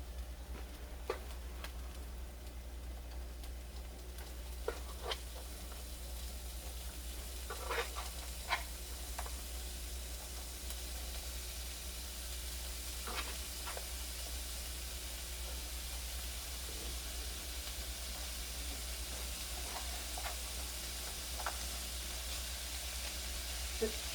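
Ground hamburger meat frying in a pan for a cheeseburger crescent ring, giving a steady close sizzling hiss with occasional stirring scrapes and soft clicks throughout.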